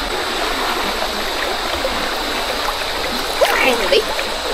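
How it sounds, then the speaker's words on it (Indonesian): A shallow, clear, low-flowing river runs over rocks near Sungai Pakoh, a dense steady rushing babble with brief splashes near the end, close and fairly loud. "Sungai pun arus sungai pun kecil saja."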